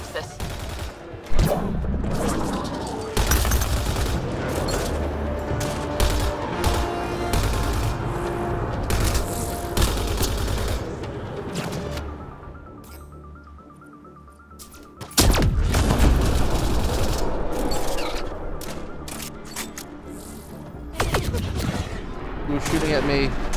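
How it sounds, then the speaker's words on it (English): Sustained sci-fi gunfire in the video game Mass Effect Andromeda, loud, continuous volleys and bursts with booms, mixed with music and voices talking throughout, briefly easing before firing surges again. "You're shooting at me."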